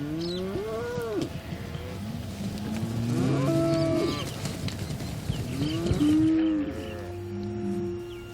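Cattle on a drought-stricken Australian farm give several long, deep moos one after another, some near and loud and others overlapping farther back, with no talk over them.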